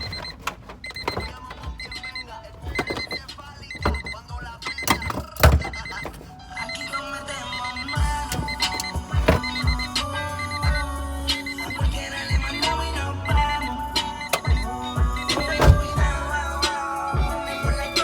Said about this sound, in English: try the alarm real quick